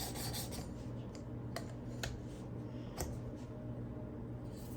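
A knife getting a touch-up on a Work Sharp Precision Adjustable sharpener with a 600 grit stone, the edge not fully dull. Several short rasping strokes rise over a steady low hum, close and fairly soft.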